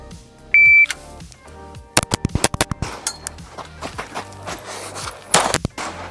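A Staccato P pistol fires a rapid string of sharp, loud shots, several closely spaced cracks and then more scattered bursts at an outdoor range, with a short electronic timer beep before the first shot.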